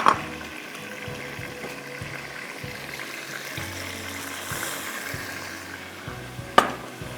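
Water is poured into a pot of raw mutton chops, giving a steady low splashing and bubbling wash at moderate level, with a sharp clink near the end and no talking.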